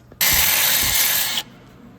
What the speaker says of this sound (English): Just some 60 grit sandpaper disc, flap disc. Does the trick quite well.